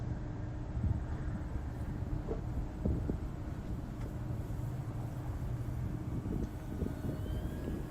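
A radio-controlled model airplane in flight, heard as a faint, steady distant engine hum with low throbbing and wind rumble, no voices.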